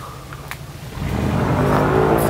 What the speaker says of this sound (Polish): W tle właśnie słychać te łódki, które są napędzane takim wiatrakiem